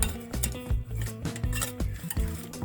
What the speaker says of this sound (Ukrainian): І зараз я акуратненько отак перемішаю.